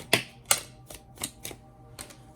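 Tarot cards are pulled and shuffled from a deck in a quiet room, several crisp papery snaps and flicks in an uneven rhythm, close and clear with no one speaking.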